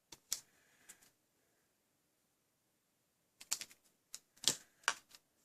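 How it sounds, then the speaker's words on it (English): Card paper being trimmed gives sparse, crisp clicks and snips, close and fairly quiet. They come as a pair, then a pause, then a cluster of sharp ticks. "I can trim that just a tiny little fraction."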